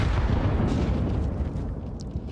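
Grenades blow up during a Counter-Strike match, a dense, loud, rumbling explosion that fills the short stretch and slowly fades, with no voices over it.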